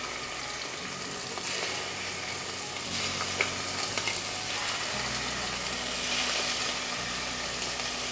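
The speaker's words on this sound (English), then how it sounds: "Hear that nice sizzle." Bone-in, skin-on chicken sizzling and frying in a pan for red curry, a steady close hiss of crackling oil with occasional stirring scrapes, moderately quiet and without talk.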